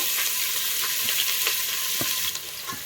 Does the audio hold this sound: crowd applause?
no